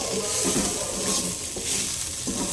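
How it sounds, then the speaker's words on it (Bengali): Goat meat masala sizzles in a pan over a low flame, with steady frying hiss and occasional stirring scrapes up close. "খুবই লো ফ্লেমে এটাকে ভাজতে হবে"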